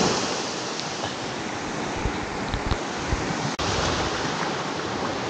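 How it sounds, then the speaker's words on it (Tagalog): Strong sea waves crash and surge against a rocky shoreline in a steady, loud, continuous roar, with bursts of spray and no voices heard. "Malakas ang alon eh,"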